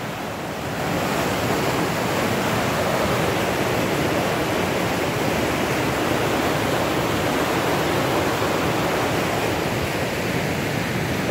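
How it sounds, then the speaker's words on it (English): A river running high near hot springs gives off a continuous broadband rushing roar, steady and fairly close, with no voices over it. "River's really high."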